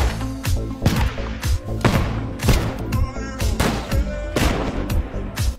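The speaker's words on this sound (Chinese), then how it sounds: "于是富贵给套娃从大到小全制作成炸弹了，挨个爆破。" A film scene of homemade bombs, nesting dolls packed with gunpowder, blasting one after another: a rapid string of about eight sharp, loud detonations with booming low ends, close and punchy.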